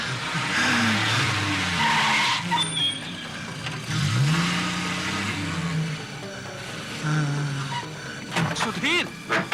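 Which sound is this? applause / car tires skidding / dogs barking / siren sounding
car tires skidding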